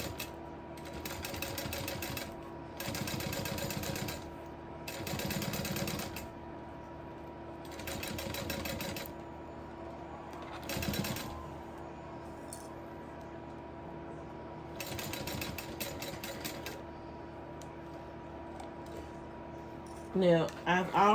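A sewing machine topstitches around a leather and webbing sling in short bursts of rapid mechanical chatter separated by pauses, close and clear, with a few clicks at the end.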